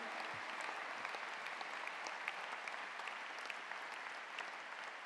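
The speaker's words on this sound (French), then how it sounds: "Applaudissez-les, dites-leur merci." Applause from a large audience in a Paris convention hall during a political speech, a steady dense wash of clapping heard from a distance and continuing evenly throughout.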